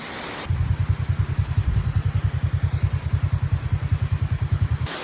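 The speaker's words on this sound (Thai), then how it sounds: "น้ำตกข้างทางก่อนเข้าตัวเมืองคุณคำอยู่ทางยอดปีไฮแล้ว" A motorcycle idles or passes by a roadside waterfall in Laos, its steady pulsing low engine throb running loud and near over a constant hiss of falling water, with no voices.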